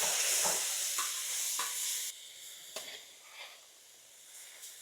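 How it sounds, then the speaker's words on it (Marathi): Marinated chicken sizzles loudly in ghee on a hot griddle, a bright steady hiss with occasional scraping stirs, the sizzle easing down partway through. "4 ते 5 मिनिटं आपण तव्यावर असं चिकन फ्राय करून घेऊ"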